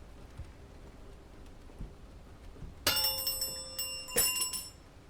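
Haunted bells in the game The Ten Bells ring out, two bright metallic clangs with shimmering decay, over a soft rain-like background hiss.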